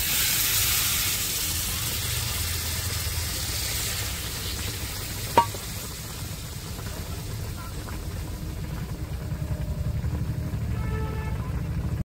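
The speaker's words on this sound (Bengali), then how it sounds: "জল দিয়ে ভালো করে একটু নাড়াচাড়া দিয়ে দিয়েছি।" Pointed gourd curry with masala, just watered down in a pan, sizzles and hisses steadily while being stirred, with a sharp clack near the middle and faint scraping later, close and continuous with no talk.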